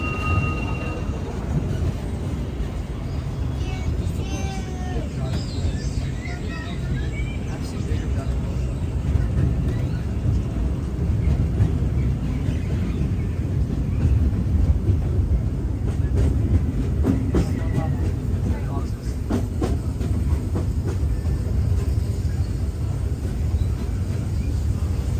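Big Thunder Mountain mining train ride at Disneyland rumbling and clattering loudly and steadily on its track, with people talking throughout.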